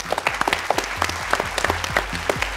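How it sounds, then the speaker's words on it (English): Audience applause at a school quiz competition grand final, dense clapping lasting the whole stretch with a steady crowd wash and no pauses. "Give them a round of applause."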